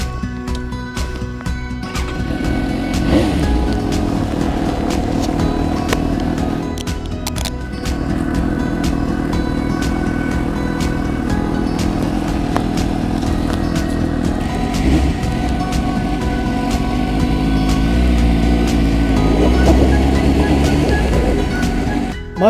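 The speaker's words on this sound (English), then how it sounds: "go on a motorcycle trip to the Scottish Highlands on this, my Suzuki" A Suzuki GSX-S 750 motorcycle rides on a Highlands trip in Scotland, its engine a constant, loud, rough drone under heavy wind rumble, with occasional clicks and knocks, shifting slightly in pitch as the bike speeds up.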